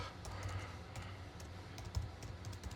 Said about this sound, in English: let me type this out and let me make it a little bit bigger so you can see